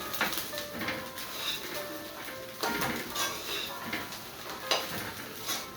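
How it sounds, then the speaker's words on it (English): Spoon stirring browning into fried rice in a pot, giving soft scraping and clinking of metal against the pot in an uneven rhythm over a faint kitchen hiss, close up and fairly quiet. "Stir in my browning."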